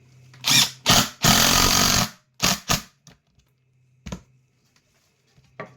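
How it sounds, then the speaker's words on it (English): A power drill drives a screw into a guitar body in several short whirring bursts, one longer steady run in the middle, then fainter brief taps and clicks, close with no talking. "I'm going to screw it in there."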